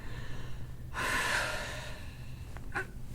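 A relaxed patient draws one deep, audible breath in through the nose and mouth, close and soft, followed a moment later by a short second breath.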